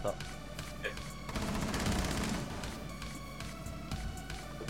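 Gunfire in the Rainbow Six video game, likely a sniper, heard as a flurry of sharp shots that peak mid-clip over a steady game-ambience rumble, with players' voices mixed in.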